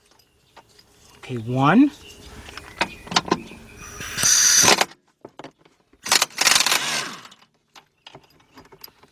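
A socket wrench ratchets and clanks while a starter bolt is loosened on a 2007-2010 Audi A8 Quattro, in close bursts of metallic clicking and mechanism noise, with a brief spoken count in between.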